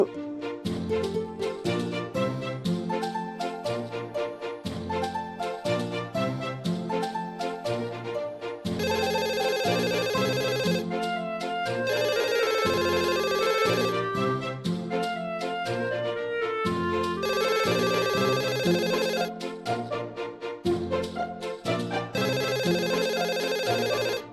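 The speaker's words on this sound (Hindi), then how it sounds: "फोन बज रहा है, उठा क्यों नहीं रही है?" A telephone ringtone plays on and on as a loud, continuous tonal melody, repeating in phrases for the whole stretch with no voices over it.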